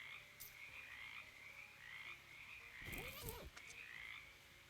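Frogs croak in the video game Shadows Over Loathing: a few soft croaks over steady ambient game music, then a louder, warbling cluster of croaks near the end.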